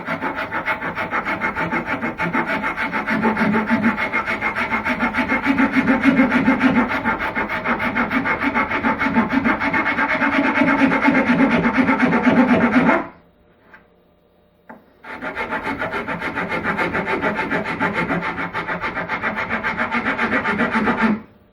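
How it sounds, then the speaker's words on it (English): A rasp files a wooden handle for a 3 lb sledgehammer in steady, continuous scraping strokes, close and loud. The strokes stop for a brief pause partway through, then resume at the same pace. "Use the rasp again for a little while."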